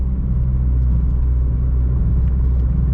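A 2002 Mitsubishi Lancer drives along and builds speed, its engine heard as a steady, loud low rumble and road drone from inside the car without a clear rise in pitch.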